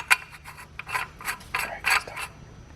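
Twist Dynamics Mammoth air horn being screwed into place, with a series of short, close scraping and clicking bursts of metal threads and fittings being turned, quiet between strokes and no talking.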